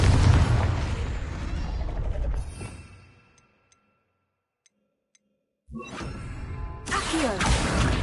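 A Confringo spell blast in a Hogwarts wizarding game, a loud booming burst that trails off into near silence with faint ticks, followed by another abrupt crashing blast and swelling rumble.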